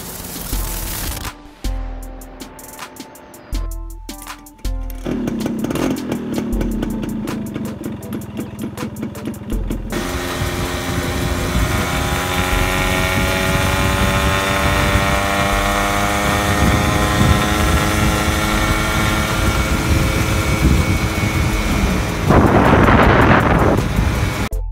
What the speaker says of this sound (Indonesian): 100 cc 2 tak 1 silinder Yamaha Alfa 2R.